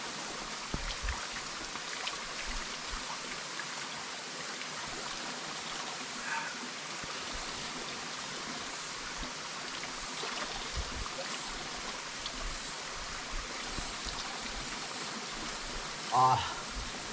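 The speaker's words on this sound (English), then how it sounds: "I have small stream here and keep the air very cool, very fresh" A small jungle stream flowing nearby, a soft continuous trickling wash with faint babbling throughout, with a brief sharper splash or knock near the end.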